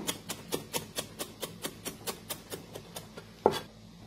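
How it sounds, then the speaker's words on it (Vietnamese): Lemongrass finely sliced with a knife: about sixteen quiet, evenly spaced chopping taps, ending with one louder knock. "Chúng ta thái xả nhỏ ra."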